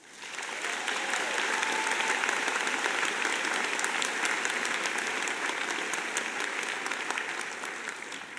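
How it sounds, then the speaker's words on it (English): Sustained applause from a large audience at Illinois College's 183rd commencement ceremony, a dense steady wash of clapping that swells in quickly and holds at full strength for about eight seconds. "let's give a round of applause to these 8 individuals"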